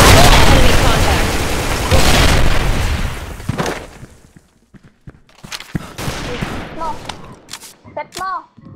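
Grenade explosions in the online shooter Special Force 2, heavy booming blasts up front followed by scattered sharp bangs and gunfire-like pops, with shouting voices in the mix during the later part.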